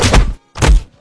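Two heavy, dull blows land on a person during a street confrontation, each a loud close thud followed by a short gap of silence.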